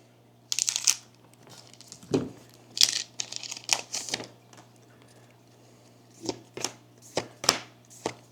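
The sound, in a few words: ripping open One Piece booster packs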